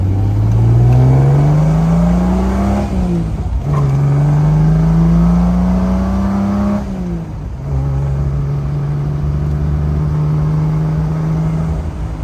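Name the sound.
1968 Triumph TR250 car downshifting while driving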